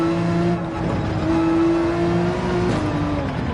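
A Red Bull race car engine in Gran Turismo 7 holds a steady high drone, dipping briefly, then rising again as it accelerates out of a corner, loud and close with no talking.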